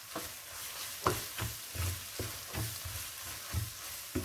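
Beef meat pie filling frying in a pan, a steady soft sizzle broken by repeated scraping stirs roughly every half second.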